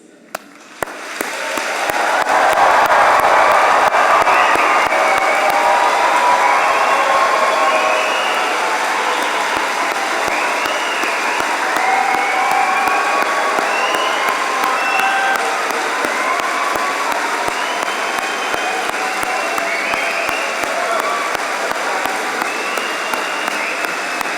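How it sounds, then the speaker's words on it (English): Large audience at a London degree ceremony bursts into loud, sustained applause for the students, with some cheering and whoops mixed into the dense clapping, swelling quickly and holding for over twenty seconds. "I want us all here to just congratulate our students on their achievements, and it should be even louder than our previous applause"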